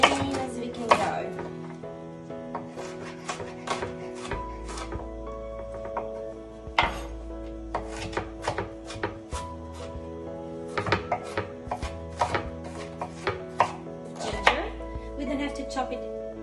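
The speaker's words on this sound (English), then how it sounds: "We clean the shallot and we start chopping it fine." A knife chops a cleaned shallot finely on a board in a cooking class, giving rapid, steady rhythmic taps in close, clear bursts with brief pauses.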